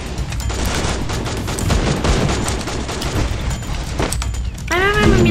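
Dense bursts of video game gunfire fill a Thai team-shooter match, loud and continuous with booming shots, ending with a brief sweeping electronic effect.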